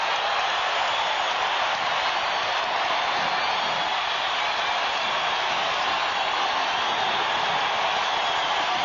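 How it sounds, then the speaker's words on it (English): Crowd at the Delta Center during a 1998 NBA Finals game between the Utah Jazz and Chicago Bulls, a sustained, broad roar of cheering that holds steady at a constant level throughout. "Listen to this crowd at the Delta Center."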